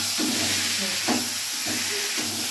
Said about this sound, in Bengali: আলুটা দিয়ে সুন্দর করে কষাতে হবে